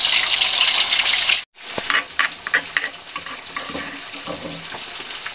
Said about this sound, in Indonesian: Gorengkan lampam dengan bawang